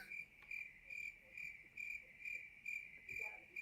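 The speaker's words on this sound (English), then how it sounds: "Give him give him the crickets." Crickets chirp in a steady rhythmic pulse, repeating about twice a second, faint and alone with no voices.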